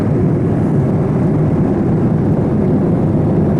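Steady, loud cabin drone of an airliner cruising over the Atlantic Ocean, a broad, unbroken roar with no voices.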